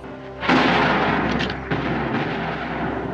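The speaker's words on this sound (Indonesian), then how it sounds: "melepaskan 3 tembakan" A loud gunshot blast bursts out, followed by a second sharp report about a second later, each trailing into a long rumbling echo.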